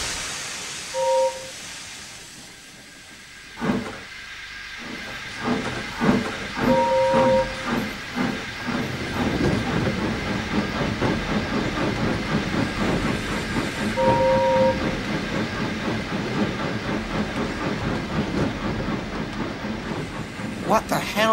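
A 1935-era steam locomotive at Tidmouth pulls away with hissing steam and short whistle toots, its rumble and chuffing rising into a steady, loud rolling roar of rail cars.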